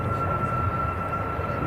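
A Boeing 737 MAX 8 airliner at Manchester Airport gives a steady, loud engine roar with a constant whine, heard up close and unbroken throughout.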